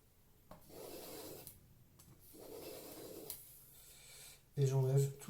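A tool scraping a layer off leather indoors, steady rasping strokes in several passes with pauses between, moderately quiet, followed by a brief louder sound at the end.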